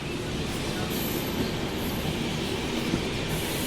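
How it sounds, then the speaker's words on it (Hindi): A train departing Chakradharpur railway station in the evening rumbles steadily along the rails, a continuous low roar with faint wheel squeal and clatter, no talking. "खूबसूरत सा डिपार्चर हो रहा है अब शाम के वक्त में चक्रधरपुर रेलवे स्टेशन से"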